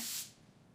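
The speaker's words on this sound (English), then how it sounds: "I spray air freshener." Air freshener sprayed in a home during cleaning: a single short hissing burst, close and fairly loud, that cuts off quickly and leaves a quiet room.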